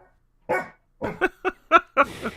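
A dog named Sadie, a stray, barks in a quick run of short, close, loud yips and barks, about six in a row with brief gaps between them.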